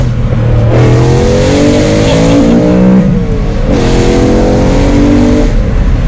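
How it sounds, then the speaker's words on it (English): A BMW M3 with a loud aftermarket exhaust revs hard in two long rising pulls separated by a short dip, its engine roar close and very loud throughout, with no talking. "So I think this loud exhaust will stay on this car for a short time."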